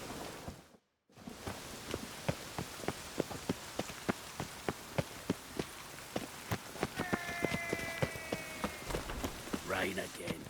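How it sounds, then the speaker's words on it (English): Steady rainfall in The Witcher 3: Wild Hunt, a constant hiss of drops on surfaces punctuated by regular sharp taps, briefly cut out near the start, with a faint voice and other ambient game sounds layered in later. "Rain again."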